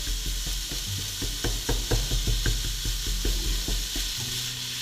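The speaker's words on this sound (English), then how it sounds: "So we want to cook the meat or fry the meat from all sides." Minced meat frying in a pan with shallots for bolognese, a steady close sizzle under repeated scraping and stirring strokes of a spatula, with a low background hum throughout.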